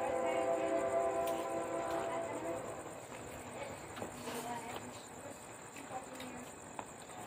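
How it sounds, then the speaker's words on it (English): A train passes at a Florida railfan spot around Auburndale, Lakeland and Plant City, with a steady rumble and clatter fading gradually over several seconds and a tonal horn-like hum at the start. Voices talk over it. "this train will get me"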